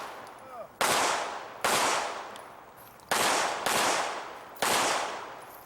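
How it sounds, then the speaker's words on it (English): Sharp gunshots ring out at a shooting match stage, five loud cracks spaced about a second apart, each with a long decaying echo off the range. "He took another shot at that downrange target."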